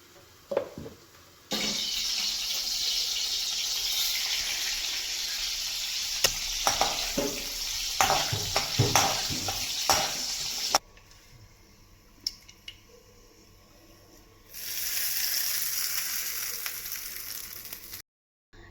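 Hot oil crackles and sizzles loudly as spices hit it for a chutney tempering, with stirring clatter, a pause, then another burst of hissing sizzle.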